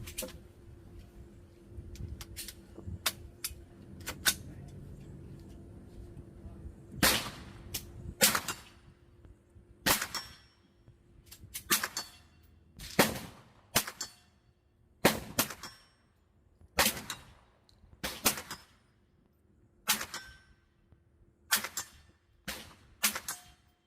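A Bear Creek Arsenal BC-9 fires Monarch steel-cased full metal jacket rounds at a range, sharp single cracks spaced a second or two apart, about ten shots, ringing out over a faint quiet background.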